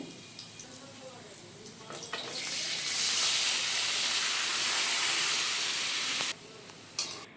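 Boiled taro leaves drop into hot garlic oil in a pan and set off a loud, steady sizzle that holds for a few seconds and then cuts off abruptly.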